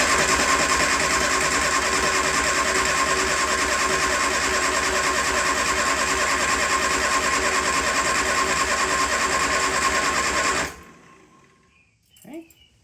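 A Triumph Spitfire engine cranking over without starting, a loud steady rhythmic churn lasting about ten seconds and then cutting off abruptly, followed by brief faint noise.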